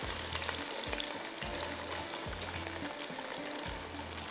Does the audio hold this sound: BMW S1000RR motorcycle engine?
no